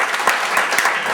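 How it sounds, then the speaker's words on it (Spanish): Loud, dense applause from an audience at a political gathering, many hands clapping together close by with a few sharper claps standing out. "Un aplauso para Canadá"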